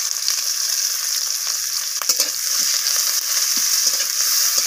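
Sliced onions sizzle steadily in hot oil with a tempering of dried chillies, a continuous bright crackle with a few soft stirring scrapes, close and alone.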